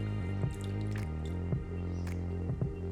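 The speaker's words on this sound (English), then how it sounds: "Wash it well with a lot of water." Water drips while vegetables are washed for a spicy Thai pork ramen, a few soft, separate drips spaced about a second apart, heard under steady background music.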